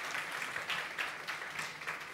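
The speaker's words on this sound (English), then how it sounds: "So a huge round of applause." Applause from the audience at a televised grand finale competition in Dhaka, a fairly faint, continuous patter of clapping in brief pulsing swells, heard from a distance with no voices.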